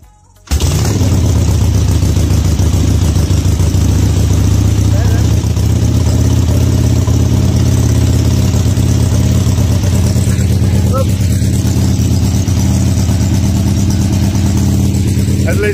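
A 1970 Harley-Davidson Ironhead Sportster motorcycle engine catches and runs at a steady, loud idle close by, a dense low rumble that stays constant for the whole stretch with no talk over it.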